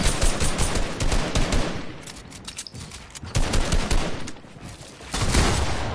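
Rapid bursts of video game gunfire crackle through a 2v2 online match, coming in dense automatic volleys with brief lulls between them, loud and close.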